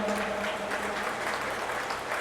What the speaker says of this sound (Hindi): आदरणीय हरदीप सर के लिए जोरदार तालियां चाहूँगा।